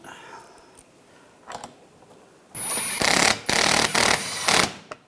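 A power screwdriver drives screws into the fog light bezel of a 2013-2016 Dodge Dart, starting after a few faint handling clicks with several loud whirring bursts in close succession, each stopping abruptly, near and alone.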